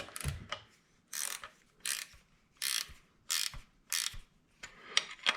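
A wrench ratchets in short, evenly spaced bursts, about seven in all, as a loose part on a junkyard three-speed floor shifter is tightened. The clicking is close and crisp with quiet gaps, and no one speaks.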